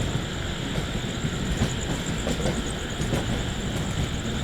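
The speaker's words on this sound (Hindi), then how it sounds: "ट्रेन तो मेन लाइन पे ऑलमोस्ट आ चुकी है।" Patliputra SF Express train running on rails as it merges onto the main line, a steady broadband rumble with faint rhythmic clatter, loud and continuous throughout.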